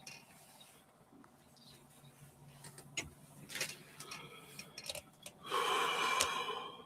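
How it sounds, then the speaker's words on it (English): Quiet, close snoring: slow rasping breaths with snorting bursts, growing louder toward the end. "Listen to her snoring."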